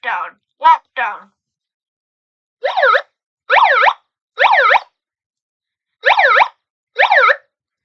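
School fire alarm sounding in repeated bursts, a rising-falling electronic whoop pattern, with three quick tones followed by five longer sweeping blasts separated by short silences, loud and clear with no talking.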